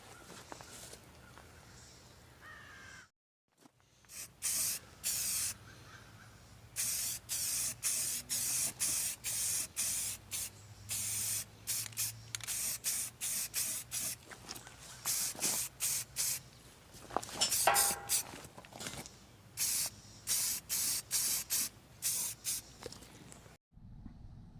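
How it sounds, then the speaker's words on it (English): Repeated bursts of spray paint hiss onto a shop-built tire changing stand, short on-off blasts in steady rhythm at close range, with occasional footsteps and no talking. "So now I'm just going to give it some paint."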